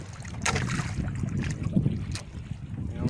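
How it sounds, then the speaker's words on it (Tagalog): Strong wind buffets the microphone in steady gusts, with a low rumbling roar and bursts of broadband noise throughout. "At kabagat naman po ang hangin."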